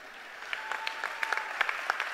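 An audience at a university presidential installation ceremony claps steadily, a dense burst of many hands at moderate distance, without speech over it.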